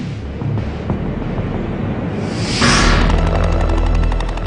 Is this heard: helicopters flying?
yes